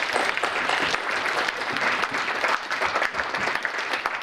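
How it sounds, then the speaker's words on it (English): Audience applause at an annual education board conference in Sikkim welcomes a professor: dense, steady clapping from a full room, sustained and fairly loud for the whole stretch with no voices on top. "Please clap."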